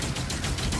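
Rapid gunfire from the video game DOOM: The Dark Ages forms a brief, dense burst of repeated shots with no gaps. It sounds fairly quiet in the mix.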